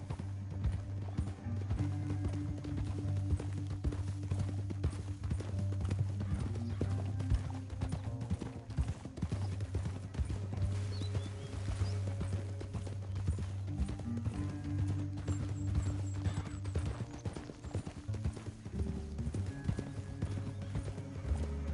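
Horse hooves clip-clop at a steady trot in the Red Dead Redemption 2 video game, a continuous rhythmic beat under a low sustained music score, with a brief whinny-like flourish midway.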